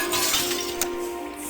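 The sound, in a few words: glass breaking in Zork: Grand Inquisitor video game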